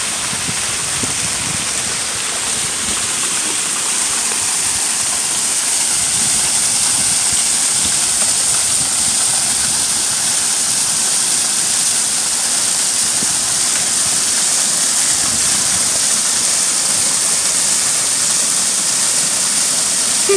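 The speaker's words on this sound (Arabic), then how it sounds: "المية بتنزل كلها من هنا اهي" Water pours steadily from a fountain in a town square park in Cathedral City, California, a continuous close rushing splash and hiss that stays loud and even throughout, with no talk over it.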